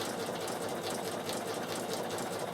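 A Bernina sewing machine stitching a buttonhole runs in a steady, rapid mechanical whir with fast needle ticks, close and continuous throughout.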